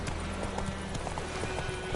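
Roach, a horse in The Witcher 3, clip-clops steadily over ground in a continuous rhythmic walk, hoofbeats close and even beneath a dense in-game ambient bed, with no talking.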